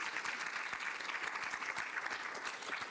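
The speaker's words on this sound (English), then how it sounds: "let's give her a round of applause first." A lecture audience gives steady, even applause after a talk on human dignity, a dense continuous patter of many hands at moderate volume with no voices over it.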